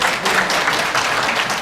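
A crowd applauds at a packed Korean real-estate sales presentation in Orange County, a dense, steady wash of clapping that holds at an even level for its brief length.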